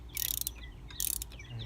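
A wrench breaks loose the A/C compressor clutch nut on a 2007 Acura RDX, giving two short, close bursts of rapid ratcheting clicks a moment apart.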